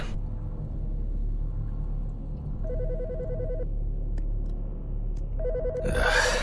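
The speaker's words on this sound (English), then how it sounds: "The fucking phone." A telephone rings in the horror-tinged game Autopsy Simulator, two bursts of a warbling electronic trill separated by a pause, sounding over a low ambient rumble with a brief noisy swell at the end.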